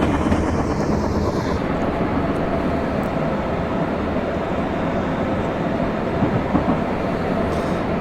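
In the Train Sim 2020 video game, the Vermonter passenger train runs toward Bridgeport with a steady, loud rumble of wheels and carriage noise heard from the passenger view, unbroken for the whole stretch.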